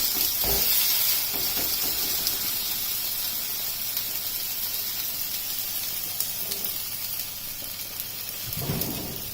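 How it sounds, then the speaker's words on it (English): A tortilla wrap warms in a hot pan with a constant broad sizzling hiss, a few louder bursts and soft knocks, close and steady. "you can hear it sizzling"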